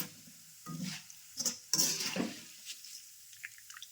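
Flattened rice (avalakki) is stirred and fried in a pan, giving scattered scraping and clinking strokes with soft sizzle in between, close and intermittent, with no talking.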